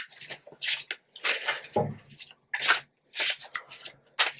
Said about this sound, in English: Shuffle and cut them